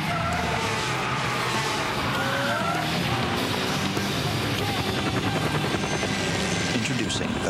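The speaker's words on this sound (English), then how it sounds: "Introducing the fast new C230 sports sedan with a supercharged compressor engine" A fast Mercedes C230 sports sedan with a supercharged compressor engine roars past in a TV ad, its engine whine and tire noise loud and continuous throughout, with no voices heard.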